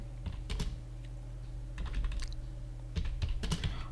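Fingers tap a computer keyboard during accounting data entry, producing three short bursts of quick clicky keystrokes separated by brief pauses, over a low steady hum with no one speaking.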